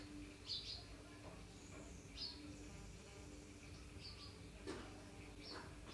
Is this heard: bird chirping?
yes